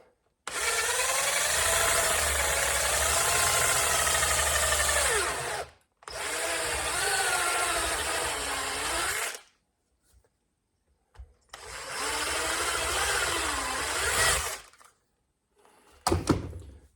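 A power drill whines steadily through plastic in three long bursts, pausing between each, with a short final burst at the end.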